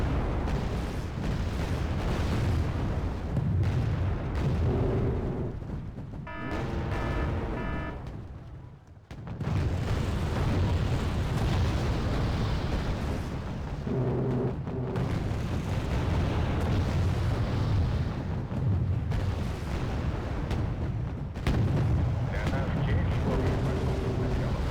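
Gunfire and explosions in the video game Wargame: Red Dragon form a dense, continuous rumble of booms and bursts, broken by brief quieter gaps and a few tonal interface sounds.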